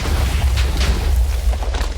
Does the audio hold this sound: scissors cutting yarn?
no